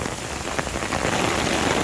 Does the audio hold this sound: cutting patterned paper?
no